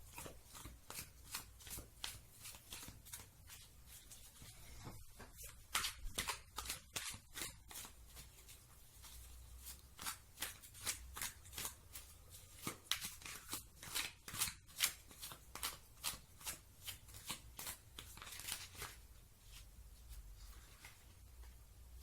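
Tarot cards shuffled and drawn by hand, a steady run of crisp papery riffles and flicks, close and fairly quiet, with no talking.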